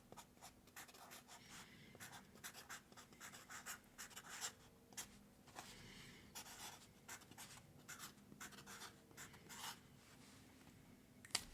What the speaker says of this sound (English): I'm going to write your name on the box